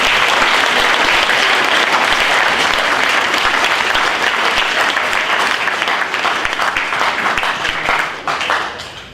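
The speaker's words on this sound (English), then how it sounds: "I'd like everybody to give a round of applause to Luke." Loud, sustained applause from a large audience of schoolboys, dense clapping that fills the clip before tapering off at the end.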